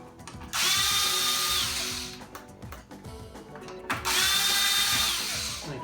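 A power drill removes the small screws holding a hoverboard sensor board, two long whirring bursts with ratchet clicks between them, close and loud.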